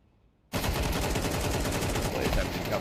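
AK rifle fire in a competitive video game match: after a quiet start comes dense, continuous rapid gunfire that stays loud to the end.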